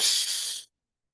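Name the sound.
sharp breath drawn in through the nostrils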